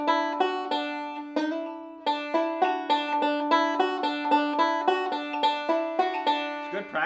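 A banjo plays a bluegrass lick on a single string up the neck, from the fiddle tune The Girl I Left Behind: a steady run of bright, plucked notes, close and clear with no talking.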